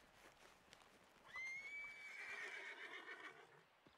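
A horse in Red Dead Redemption 2 lets out a single clear whinny that rises and trails off, moderately close, with faint hoof clip-clop and quiet ambience around it.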